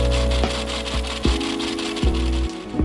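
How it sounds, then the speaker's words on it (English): Parting off a metal piece on a lathe in a workshop, a harsh rasping, grinding cut with steady tonal ringing and several sharp bumps as the tool feeds in, loud and close with no talk. "And finally, I'll part the piece off."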